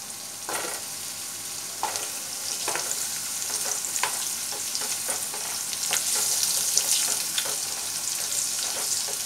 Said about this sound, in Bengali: আলুটা একটু লাল করে ভেজে ভাজা অবধি আমি অপেক্ষা করব।